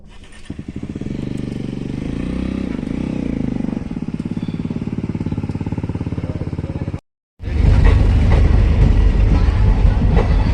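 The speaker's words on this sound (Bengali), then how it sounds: "এই যে যাচ্ছে শিলিগুড়ি লোকাল ট্রেন, এই ট্রেনটার জন্যই গেট বন্ধ হয়ে গেছিল।" A Siliguri local train rolls past a closed rail crossing gate, loud and close, with a continuous heavy rumble and rhythmic clatter of wheels, briefly cutting out near the end before the roar returns.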